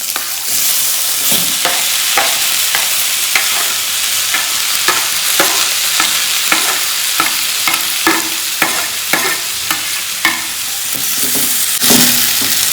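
Onions and tomatoes fry loudly in a pan for egg bhurji. A dense, constant sizzle carries a quick series of spatula scrapes and taps, with no voices.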